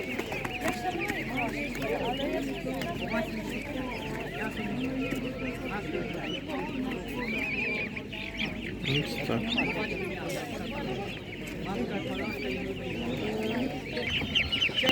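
Ducks quack and fowl cluck throughout a busy outdoor Ukrainian animal market, with people talking over the birds and a constant crowd murmur.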